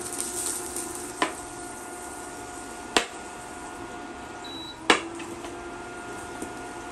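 Butter heating in a hot pan gives a low, steady sizzle, broken by three sharp clinks of a utensil against the pan, with no talking.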